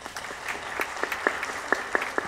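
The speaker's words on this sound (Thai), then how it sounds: "ขอเสียงปรบมือครับ" Scattered applause from a conference audience for a speaker, sparse and uneven individual claps rather than a dense roar, moderately near and fairly soft, with a faint murmur of talk underneath.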